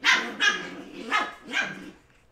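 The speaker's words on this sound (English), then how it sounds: "the one that's barking" A puppy barks four times in quick succession, sharp and fairly close, the yaps spaced about half a second apart before falling quiet.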